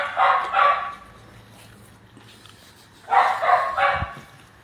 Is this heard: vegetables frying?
no